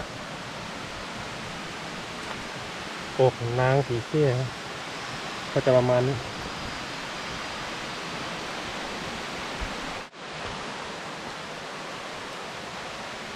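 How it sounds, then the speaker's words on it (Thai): The fourth tier of a waterfall in Kanchanaburi, a constant soft rushing of falling water that fills the scene, with a person talking briefly over it midway. "น้ำตกชั้นที่4"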